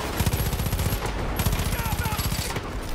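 Automatic rifle fire in Far Cry 5 on PC: rapid, loud, close bursts of shots in a steady rhythm, broken by short pauses and continuing to the end.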